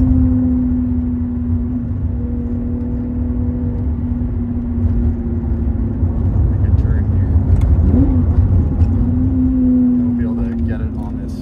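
Modified car engine held at a steady hum, then briefly revving around a gear change before settling back, close and continuous, with a person talking over it.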